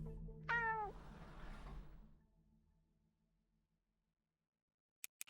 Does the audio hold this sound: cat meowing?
yes